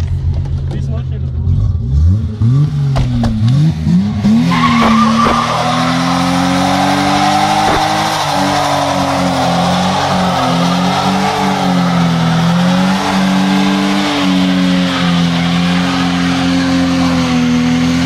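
A BMW 520i does a burnout, its engine revving hard and holding a high strained note while the tires squeal and skid continuously for the whole stretch, loud and close, with people talking nearby.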